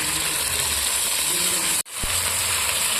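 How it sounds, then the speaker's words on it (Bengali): Fried spice masala hit with a splash of water, giving a loud, dense, continuous sizzling hiss up close, briefly cutting out for an instant before resuming. "মশলাটা কষানো হয়ে গেছে অল্প একটু জল দিয়ে দেবো"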